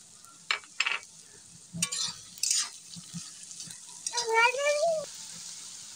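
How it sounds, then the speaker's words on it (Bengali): Dried fish and salt are stirred in a cooking pan, with a few sharp scrapes and clinks of a spoon, a light sizzle underneath and a brief squeak near the end. "সবগুলোকে একসাথে নেড়ে চেড়ে দেবো"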